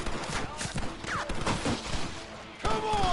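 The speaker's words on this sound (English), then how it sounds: "You man the Gatling gun, Marston!" Rapid Gatling gun fire in Red Dead Redemption, a dense rattling burst continuing throughout with thuds mixed in, under game dialogue and a loud action soundtrack.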